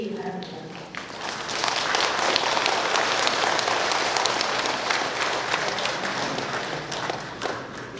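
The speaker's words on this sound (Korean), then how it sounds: "이신철 교수님을 큰 박수로 맞이해 주시기 바랍니다" An audience claps steadily to welcome a history professor at a solemn ceremony marking the March 1st Independence Movement anniversary; dense, sustained applause fills the room for several seconds, with brief talk near the start.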